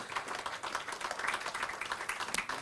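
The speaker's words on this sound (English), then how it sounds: "A bigger round of applause to our panelists this afternoon." Audience applause for the panelists at an innovation week event in Tanzania, a dense, steady spread of clapping that carries on throughout at moderate loudness with no talk over it.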